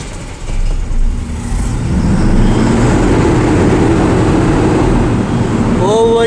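A BS6 vehicle engine turns over and settles into a steady, loud running rumble close by, with a brief rising whine near the end.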